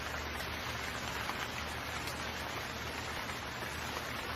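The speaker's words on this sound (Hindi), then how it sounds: "कोमल की सास के जाते ही जोरों की बारिश होने लगती है" Heavy rain pours down in a dense, steady hiss on the surfaces around, loud and unbroken from start to finish with no voices.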